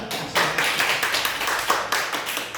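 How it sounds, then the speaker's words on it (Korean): A church congregation claps in welcome for a visiting provincial councillor, a lively burst of many hands that starts abruptly and carries on steadily to the end. "박수로 환영하고"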